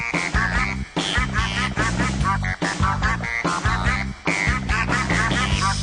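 Ducks quack in quick, loud, repeated bursts that fill the whole stretch with a steady, close chatter and almost no pauses.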